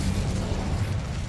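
Incendio fire spell blasting in the video game Hogwarts Legacy: a brief, steady roaring burst with heavy low rumble, loud and unbroken, no voices.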